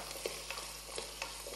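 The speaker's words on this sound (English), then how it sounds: "And then just saute this together." Leeks, carrots and coriander seeds sauté in a hot pan with a continuous soft sizzle, while a utensil stirs and scrapes in a few gentle, evenly spaced strokes.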